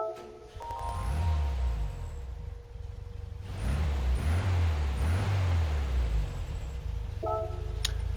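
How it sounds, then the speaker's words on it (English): A 1966 Volkswagen 1200 engine in Gran Turismo 7 cranks and starts, settling into a steady low idle with a few revs, ending with a brief click. "we'll listen to the startup sound"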